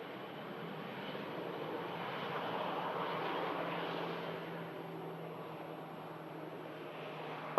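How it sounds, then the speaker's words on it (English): EasyJet airliner arriving from Copenhagen at Manchester Airport, a steady broadband jet roar from a distance that swells slightly and fades, with no talk over it. "This EasyJet arriving in from Copenhagen."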